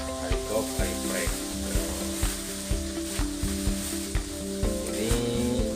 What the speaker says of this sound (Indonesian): Oh, ini lagi goreng ayam geprek ya.